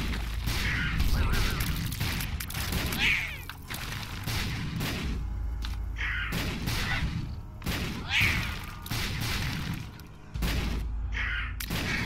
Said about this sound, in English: Putting a lot of explosions down over here.